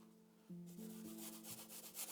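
A paintbrush scrubbing a small amount of acrylic paint back and forth over a surface, a soft, close, rhythmic rubbing that starts after a short pause and continues steadily.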